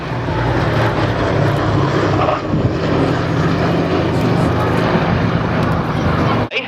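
A B-17G bomber with its bomb doors open flies past at an airshow, its piston engines giving a loud, steady droning roar with a low propeller hum that holds throughout before cutting off at the end.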